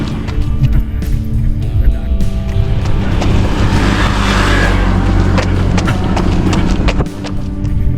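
Traffic on a bypass road between San Juan and San Fernando, La Union, heard from the roadside during a run: a steady, loud rumble of passing vehicles that swells and fades, with no one talking.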